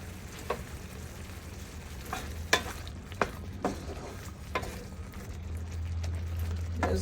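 Baby octopus stew with thyme leaves simmers in a pot with a low, steady sizzle while a spoon stirs it, giving a few scattered scrapes and light clicks against the pan.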